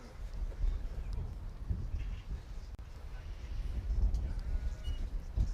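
Texel lambs bleat faintly in a show ring at the Highland Show, their calls thin and distant beneath a steady murmur of crowd noise and nearby voices.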